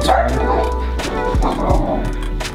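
Several dogs bark and yip close by outdoors in the snow, short sharp bursts repeating across the moment.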